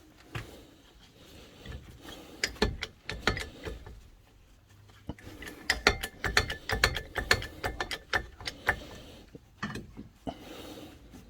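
Tightening suspension bolts with a bar while fitting front Bilstein B6 sports dampers: irregular bursts of close ratcheting clicks and metallic clanks, with quiet gaps between the clusters of strokes.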